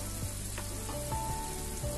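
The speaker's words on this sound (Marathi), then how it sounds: "स्मोक देण्यासाठी मी इथे जळलेला कोळसा घेतलेला आणि त्यावरती वरून तूप घातलेलं" Ghee poured over burning charcoal to smoke chicken angara, a steady soft sizzle and crackle with a few faint clinks, close and alone.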